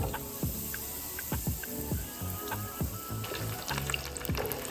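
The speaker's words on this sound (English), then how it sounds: "Boudin balls into some 350-degree oil" Boudin balls deep-fry in 350-degree oil, a dense steady crackling sizzle up close, with repeated sharp taps and clicks throughout.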